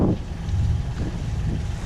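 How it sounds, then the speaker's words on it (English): Wind buffeting a microphone aboard a boat approaching a canal lock, a steady low rumbling roar that fills the short stretch without pause, with no voices. "It's a little bit of wind"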